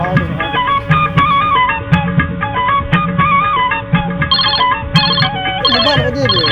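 A mobile phone ringtone plays a loud, continuous electronic melody of bright repeating tones for several seconds, with no voices over it.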